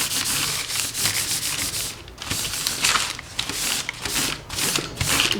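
Homemade vellum paper being rubbed by hand in steady back-and-forth strokes, a close, continuous papery scrubbing with rhythmic swells and no voices.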